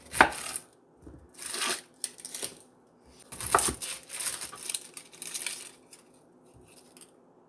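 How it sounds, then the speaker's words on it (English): Onions being chopped on a cutting board, bursts of rapid knife strikes in short rhythmic runs separated by brief pauses, close and crisp. "you don't want to sit here for 10 minutes and watch me chop 6 onions"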